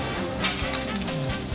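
Salmon fillet sears in a hot pan for crispy salmon, a steady close sizzle and fry crackle running unbroken throughout with no voices.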